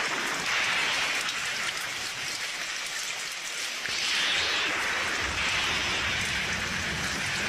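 Steady rain falls in a dense, even hiss of drops on surfaces, continuous and fairly close for the whole stretch, with no voices.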